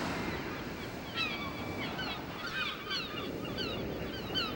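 Ocean waves wash in a steady, enveloping roar of surf in the video game Steambot Chronicles, with faint bird cries drifting over the continuous noise.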